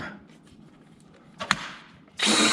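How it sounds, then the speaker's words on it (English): A cordless power drill drills a new hole in a bathroom under renovation: a short scrape and click, then the drill motor whirs up loudly and close and keeps running at the end. "Have to drill a new hole."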